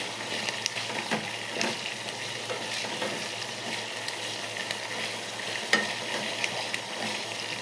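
Herbs such as curry leaves cook in hair oil, giving a continuous close sizzle with the occasional scrape of stirring.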